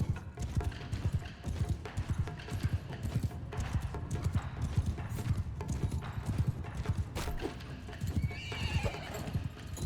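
Horse hooves clip-clop steadily in Mount & Blade II: Bannerlord, a dense rhythmic clatter mixed with game battle noise and occasional whinnies, loud and continuous throughout.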